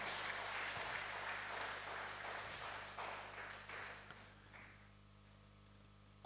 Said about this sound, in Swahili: Hebu mpe Yesu makofi mazuri kabisa.